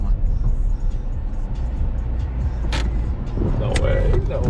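Mazda Miata daily driver on a drive-and-drift run, a steady close engine rumble with rising revs, with people talking over it.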